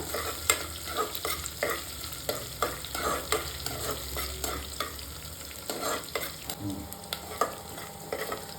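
Broken wheat stir-fried in a pan, with a steady sizzle under repeated scraping and stirring strokes of a spatula, close and fairly loud, no talking.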